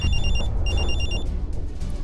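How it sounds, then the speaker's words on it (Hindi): A telephone ringing loudly in two repeated bursts of bright electronic tone, with a low rumbling background underneath. "तभी मेरा फोन बजा"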